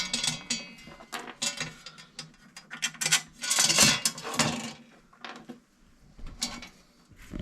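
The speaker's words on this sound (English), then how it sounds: "we're going to start out by putting a couple bolts through the piece here" Bolts pushed through metal pieces while building a cold air intake valve for an indoor fireplace, giving close, irregular metallic clicks, clanks and rattles in bursts, with no talking.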